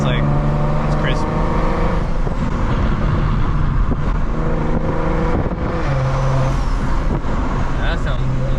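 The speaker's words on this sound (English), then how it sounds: "hearing the exhaust by itself just sounds better" A big single-turbo B58 engine with its dumps open sends a loud, crisp exhaust drone through the whole stretch. The note stays steady and pitch shifts in steps as revs rise and settle.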